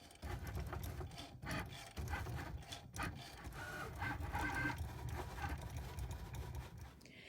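A Cricut cutting machine slices out knockout letter designs, giving a steady, close mechanical whir broken by short carriage clicks and shifts, with no talking.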